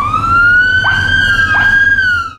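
Police car sirens wail loudly and close in a convoy heading to a wedding hall, a steady rising-and-falling electronic tone that holds throughout and fades at the end.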